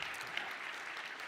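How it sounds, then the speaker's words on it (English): Audience applause at a tech conference, a dense steady patter of many hands clapping throughout. "Yeah, clap for Evan."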